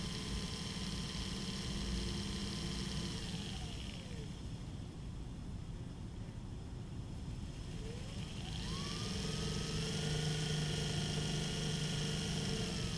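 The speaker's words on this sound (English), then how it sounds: "Motor spins." The electric motor of a customized golf cart EV conversion spins with a faint whine that winds down, falls quiet over a steady background hum, then spins back up to a steady pitch.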